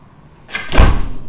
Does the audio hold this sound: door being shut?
yes